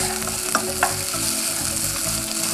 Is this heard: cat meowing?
no